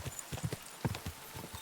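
Pebbles the horse galloping in Kingdom Come: Deliverance II, a quick, quiet, steady clip-clop of hooves repeating in even rhythm, fairly faint and alone.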